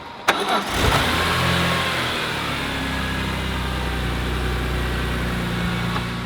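A BMW E46 engine fresh from a VANOS rebuild cranks briefly and catches, flaring with a short rev before dropping into a loud, steady, close idle that runs on smoothly.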